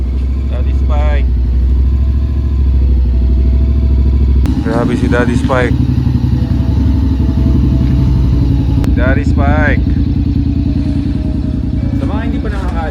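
A long-owned motorcycle, ridden on a solo Philippine loop, idles steadily and close for the whole stretch, its low engine rumble running under several short bursts of talk.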